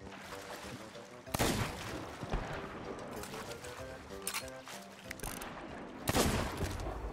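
Gunfire in a Sea of Thieves naval fight: sharp loud shots burst out at intervals over churning water and ship noise, with people talking between the blasts.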